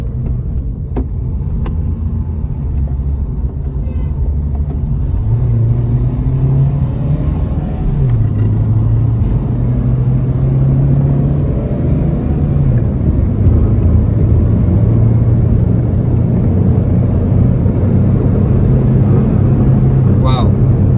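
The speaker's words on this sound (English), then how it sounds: "how does a diesel engine perform with an AMT gearbox?" Diesel engine drone inside a moving Renault Duster SUV with an AMT gearbox, its pitch climbing and dropping through gear changes as it accelerates, with constant road rumble underneath.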